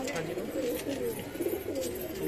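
Soft, low cooing of an English carrier homing pigeon close by, repeated in gentle rolling phrases over a faint background.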